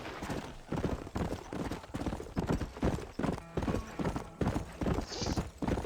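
A horse gallops in the video game Red Dead Redemption 2, with rapid rhythmic hoofbeats pounding close and loud in quick regular bursts, plus a brief whinny near the end.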